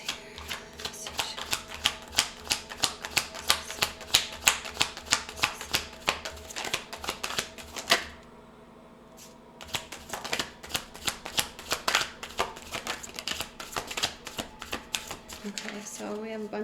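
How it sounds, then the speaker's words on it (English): Tarot cards are shuffled in quick bursts of crisp riffling clicks. The flicking stops briefly midway, then resumes at the same busy pace. "while I was shuffling before all these cards popped out"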